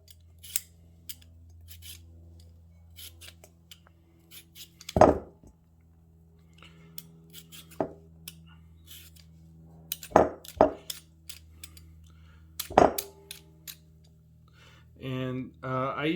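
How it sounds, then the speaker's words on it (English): A peeler scrapes strips of skin from a whole raw potato being prepared for French fries, with sparse, sharp scraping strokes over a quiet background, ending with a brief voice. "Then we just want to peel the potato"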